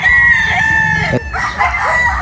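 A Boston Roundhead broodstag rooster crows loudly and close by in a single drawn-out call, with a brief break partway through.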